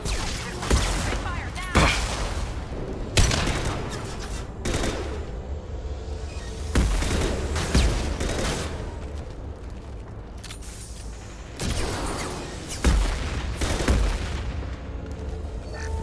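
Rifle gunfire in the Mass Effect 2 Legendary Edition video game, repeated bursts of loud shots in clusters separated by short gaps, with game combat noise between volleys.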